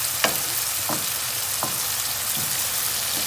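Tomatoes fry softly over low heat in a pan, a steady faint sizzle broken by a few brief scraping strokes of a spoon stirring them at regular intervals.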